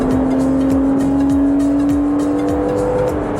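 The engine of a 2014 Porsche Cayman drones loudly and steadily from close by, a sustained tonal note holding throughout with no talk over it.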